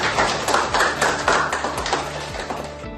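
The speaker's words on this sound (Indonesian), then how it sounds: "Semuanya tepuk tangan." A class claps hands in a classroom lesson, with a handful of distinct, uneven claps and taps over a low steady hum in the room.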